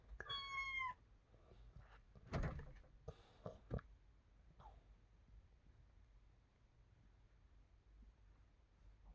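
A cat gives a short rising meow near the start, followed by thumps and scuffling like a door or movement in a quiet room, with faint background noise.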